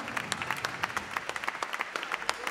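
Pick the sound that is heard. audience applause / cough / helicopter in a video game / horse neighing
audience applause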